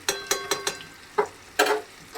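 Food stirred in a pan of hot mustard oil with mustard paste, turmeric and salt for a hilsa fish recipe, giving a few quick scraping stirs followed by short sizzling bursts, close and with no talk.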